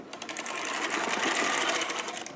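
A Sister toy knitting machine carriage is pushed slowly across a row, making a rapid, regular clicking clatter of needles, close and continuous.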